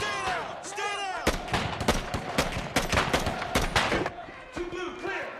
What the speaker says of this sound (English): Incoming sniper fire!